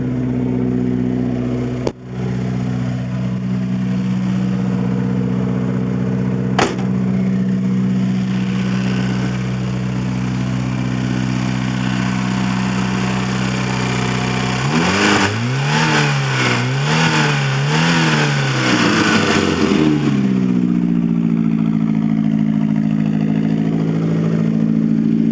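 A cold-started 1980 Porsche 924 Turbo (931) with a straight pipe idles loudly with a steady, rumbling drone. Near the end it revs in a few quick rising-and-falling surges, then settles back to idle.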